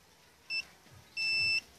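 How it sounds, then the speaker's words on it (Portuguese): Two high electronic beeps from an AKS long-range metal detector near a small cart, a short one followed by a longer tone, over faint background noise. "Ele dá o bip."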